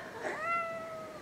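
A pet cat gives a single short meow near a sewing table where potholder squares are laid out, a clear rising-falling call lasting about a second.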